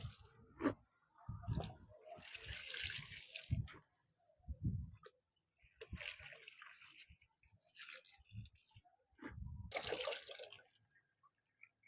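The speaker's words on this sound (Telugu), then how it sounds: "నేను ఈ విధంగా వాటర్ అయితే ఇందులోకి వదిలేసుకుంటున్నాను" Water pours and sloshes into a semi-automatic washing machine tub in short, quiet bursts separated by brief pauses, with some splashing and squishing.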